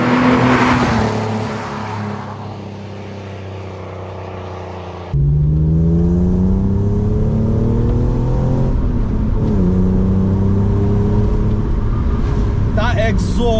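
A BMW E46 coupe's exhaust drones steadily while driving, its pitch climbing and falling through revs and gear changes, loud and close throughout.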